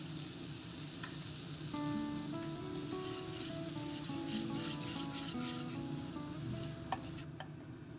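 Mustard paste with salt, turmeric and chili powder frying in oil for a golden fish curry, a faint, steady sizzle with soft stirring and light crackles throughout.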